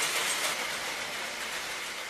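A toy train runs along a track in a Christmas decoration display, giving a steady, dense whirring rattle that stays close and even for about two seconds with no talking.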